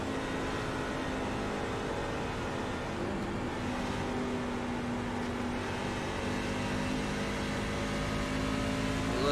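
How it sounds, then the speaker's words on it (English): A race truck engine circles the track at Homestead-Miami Speedway, a steady droning roar with rising and falling throttle tones that stays loud and continuous throughout, with no talking. "You listen to that throttle rhythm too. You can hear the truck."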